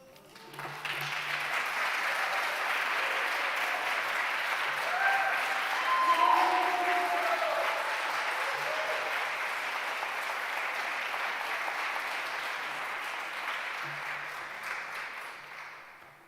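Sustained applause from a poetry festival audience after a reading, a broad even roar of clapping that holds for many seconds, with faint voices and cheers mixed in.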